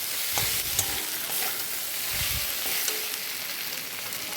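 Spiced potato curry sautés in a pan with a steady broadband sizzle and occasional scrapes of a stirring spoon, close and continuous, with no voices.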